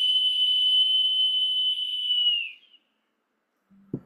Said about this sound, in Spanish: el sonido para que lo escuchen de un silbato y del otro